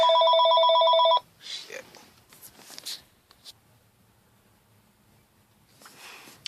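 A telephone rings loudly and steadily for about a second before cutting off, followed by a muttered exclamation and quiet handling sounds in a room.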